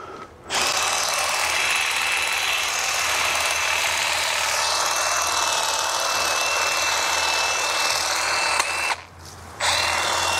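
A Milwaukee M12 cordless hedge trimmer runs steadily while shaping shrubs, a loud, continuous buzzing whir with a brief pause near the end before starting again.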